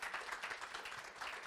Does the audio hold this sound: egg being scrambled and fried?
no